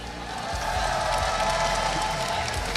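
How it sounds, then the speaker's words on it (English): Crowd cheering and applause for Team Secret at the Honor of Kings Invitational Season 2 semi-finals esports event, a steady loud roar of many voices filling the arena throughout. "Can you hear a bit cheer for Team Secret?"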